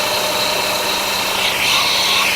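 A 1.25 inch annular cutter on a drill grinds steadily through 3/4 inch hot roll steel plate, a loud continuous motor hum with harsh high cutting noise swelling toward the end.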